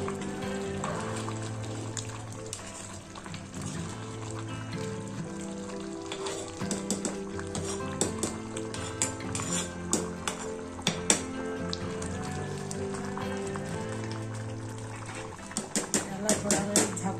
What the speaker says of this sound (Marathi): छान उकळी आली आहे